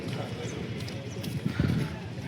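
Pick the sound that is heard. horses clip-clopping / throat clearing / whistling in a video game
horses clip-clopping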